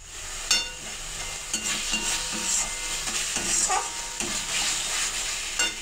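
Spice paste for a country chicken curry frying in oil in a pan, with a steady broadband sizzle and repeated scraping stirs at an even rhythm, close and moderately loud, no talk.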